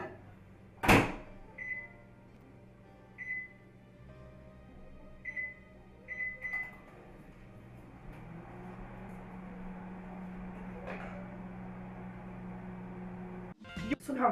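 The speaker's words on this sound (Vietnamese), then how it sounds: "cho vào microwave 1 phút rưỡi" A microwave oven warms water for kneading rice dough. A sharp clunk comes first, then several short keypad beeps, then a steady low hum as it runs, and another clunk near the end. No one speaks.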